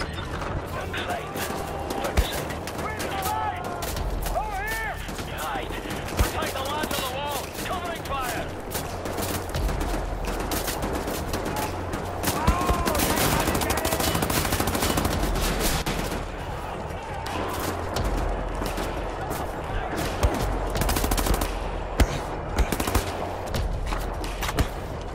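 Sustained gunfire and bursts of automatic weapons in the first-person shooter Wolfenstein: The New Order, loud and dense throughout, layered with game music, shouting and battle noise.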